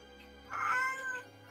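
A cat meows once, a drawn-out, wavering call that rises and then trails off, fairly close by and heard alone with no talking.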